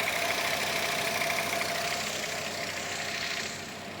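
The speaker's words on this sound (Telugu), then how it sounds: "నాయిస్ సౌండ్ చూడొచ్చు ఎంత నీట్గా ఉందో, సైలెంట్గా. I-VTEC petrol engine." Honda Amaze 2018 with an i-VTEC petrol engine idles with a steady, smooth mid-pitched hum, close and even, easing slightly quieter near the end.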